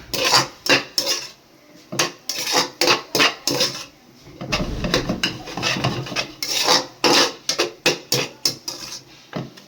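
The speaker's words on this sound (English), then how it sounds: "Give it a well mix, and then only for 2 minutes" Veg chowmein noodles tossed and stirred in a metal pan, with rhythmic scraping and clinking of a utensil against the pan in repeated close strokes, briefly shifting to a softer rubbing mix midway; no talking.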